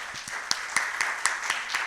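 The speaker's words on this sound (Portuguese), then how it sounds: "Vamos aplaudir ao Senhor." A church congregation claps in a steady rhythm, about two claps a second, moderately loud and even, filling the short clip without talk over it.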